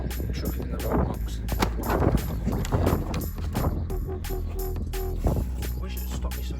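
Gusty wind buffets the microphone outdoors during a Volvo C30 D3 oil change, with rumbling bursts and scattered clanks of work in the background.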